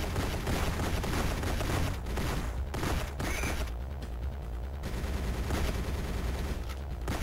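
Sustained, dense gunfire from the GoldenEye Rogue Agent video game, a continuous loud barrage of shots with booming bursts throughout and no pauses.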